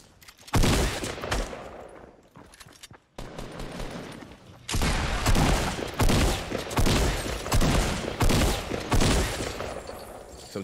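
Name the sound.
gunfire shooting at a bike in Fortnite video game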